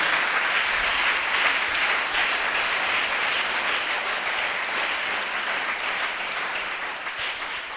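Church congregation applauding steadily, a dense, continuous wash of clapping from many people that fills the room and tapers slightly toward the end.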